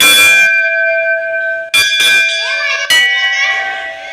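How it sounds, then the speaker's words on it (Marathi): A temple bell rings loudly and close, several clear metallic strikes with long ringing tones that decay between hits, mostly alone with faint voices. "घंटा बिंटा वाजूया काही सरा माहोल."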